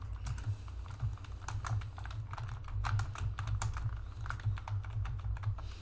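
Fast typing on a computer keyboard while entering notes during a BGP network lab, with irregular close key clicks in quick bursts and short pauses and no talk.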